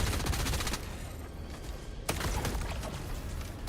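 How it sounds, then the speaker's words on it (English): Arc grenades detonating in a shooter video game, a dense rapid crackle of electric bursts like a fusillade, loud and continuous with a sharp crack midway and no talking. "The arc grenades, that is."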